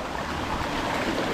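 Rushing water from a stream and waterfall, a steady broadband roar filling the whole clip without pause, close and fairly loud, with no speech.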